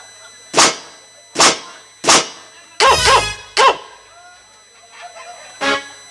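A dog barks in sharp single bursts, about six barks spaced unevenly, loud and close, with short quiet gaps between.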